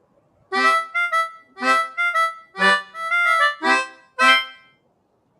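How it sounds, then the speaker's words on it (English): Small harmonica playing a short run of breathy chords and notes in separate bursts, each lasting under a second, clear and close with no talking. "this is the sound of the harmonica."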